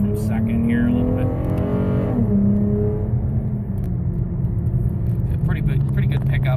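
A V6 sports car fitted with a BBK throttle body pulls hard from second gear, its engine note rising in pitch and then shifting to a steady, loud drone, with someone talking over it.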